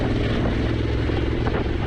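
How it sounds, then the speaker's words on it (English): The 1100cc twin-cylinder engine of a Honda CRF1100 Africa Twin with an SC Project exhaust gives a steady, loud, throbbing drone at close range, heard alone with wind rush and no talk. "I love the sound of this bike. The 1100cc twin cylinder is a work of art"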